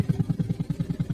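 A boat motor thuds close by in a fast, even pulse, about ten beats a second, a steady low chugging engine.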